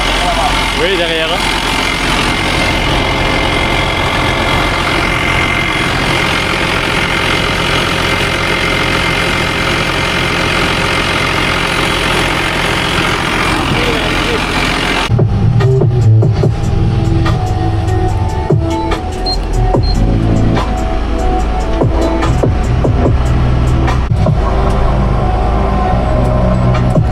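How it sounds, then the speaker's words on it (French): A farm tractor with a failed tyre is driven home, its engine running as a loud, continuous low rumble that shifts in tone partway through, with voices nearby. "on ramène le tracteur à la maison"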